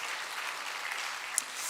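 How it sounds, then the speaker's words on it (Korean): A church congregation at a Wednesday service breaks into applause, a dense, even patter of many hands clapping at moderate volume, steady throughout with one sharper clap near the end. "우리 조상욱 집사님 맞춰서 박수 한번 하겠습니다"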